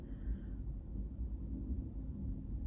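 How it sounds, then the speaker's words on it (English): Low thunder rumbling outdoors during a storm, a faint continuous deep roll heard from indoors with no talking. "Do you hear the thunder right now?"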